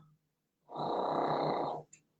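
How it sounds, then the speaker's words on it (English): A single loud snore, one drawn-out rasping inhalation lasting about a second, close and isolated against near silence, followed by a brief faint snort. "I am so sorry for that snoring."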